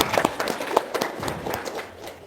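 An audience at an Indonesian religious talk gives brief, scattered applause, a few sharp claps up close that thin out and fade over a couple of seconds.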